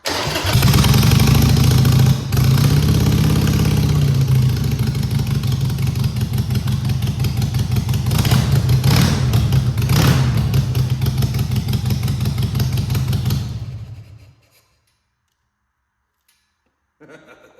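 A Harley-Davidson motorcycle with a new temporary exhaust runs loud and close, a deep steady idle with a few throttle blips, before the engine cuts off into silence near the end.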